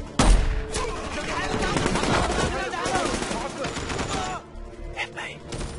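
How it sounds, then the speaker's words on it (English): Machine gun fire from the film Shooter: a dense, loud burst of rapid shots that starts with a sharp crack and rattles on for several seconds, with a voice heard under the firing. "Transition to machine gun."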